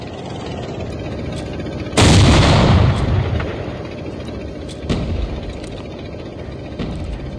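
A cluster grenade detonates in the mobile shooter Call of Duty Mobile, Battle Royale mode. A loud, sudden blast rolls off over a couple of seconds, and two smaller pops follow later against steady background noise.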